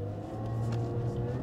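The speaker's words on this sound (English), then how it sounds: "an exhaust note opens up as well when you really get on the gas pedal" Exhaust note of a 2020 Lotus Evora GT under hard acceleration, a steady loud engine drone that rises slightly in pitch, heard up close with no talking.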